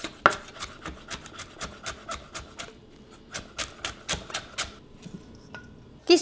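A knife chops vegetables into matchsticks on a cutting board, rhythmic sharp taps at a steady pace, close and moderately loud, pausing briefly midway before resuming, with no voices.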